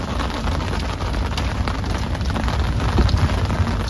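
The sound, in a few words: rain falling, caught in the rain with an umbrella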